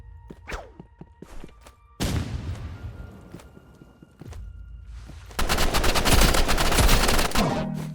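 Gunfire in the Roblox video game: scattered single shots and thumps at first, then a long, loud rapid burst of automatic fire near the end.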